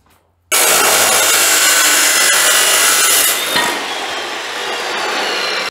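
Metal pipe table legs being sawn through for a weld table, a loud continuous cutting rasp that starts abruptly after a brief pause and carries on steadily, easing slightly toward the end.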